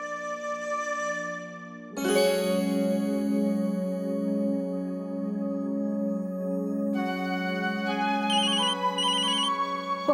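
A phone ringtone starts abruptly and plays a sustained electronic melody in a domestic scene, loud and alone, with a brighter chiming pattern joining partway through.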